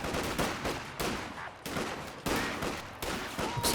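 Gunfire in a Company of Heroes 2 battle between riflemen and grenadier squads, loud continuous volleys and bursts of rifle and machine-gun fire that surge in waves with brief dips.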